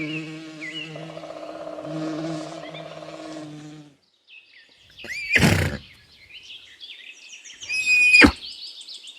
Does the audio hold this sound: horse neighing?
yes